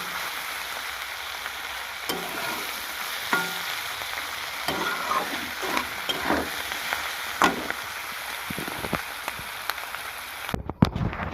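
Winter vegetables and potatoes frying in hot oil in a pan, a steady crackling sizzle with scattered stirring clatter and spatters, heard up close with no voices, ending in a brief burst of noise.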